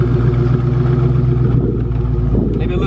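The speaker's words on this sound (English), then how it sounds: "Give you guys a few revs." Deep, burbling idle from a Dodge Charger Scat Pack 392 Hemi V8, close and loud, with the exhaust note shifting and climbing in a short rev near the end.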